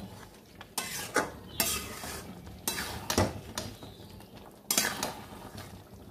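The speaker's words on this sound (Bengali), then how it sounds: "এখন আর ঢাকা দেবো না, এখন এইভাবেই নাড়বো" Dhaba-style chicken curry is stirred uncovered in a pan, with distinct, loud spatula scrapes coming every second or so over a low background sizzle and no voices.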